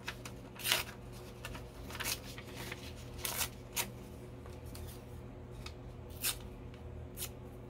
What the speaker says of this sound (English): now we're going to rip some paper.